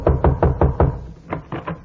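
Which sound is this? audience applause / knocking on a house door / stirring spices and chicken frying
knocking on a house door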